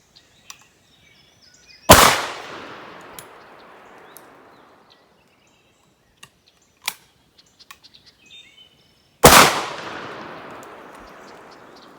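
Two loud, close 24 gauge shotgun blasts firing factory 11/16 ounce #6 birdshot at point-blank range, each a sharp crack with a long ringing decay, separated by quiet with faint small clicks and handling noises.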